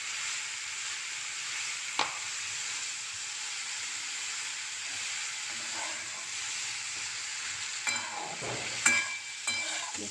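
Cucumber frying in a pan gives off a soft, even sizzle and hiss throughout, with a few brief scrapes and knocks near the end as it gets stirred.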